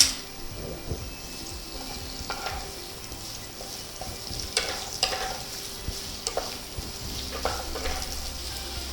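Onions sauté with a soft continuous sizzle in a pan for dum aloo, broken by occasional stirring scrapes and light clinks of a spoon.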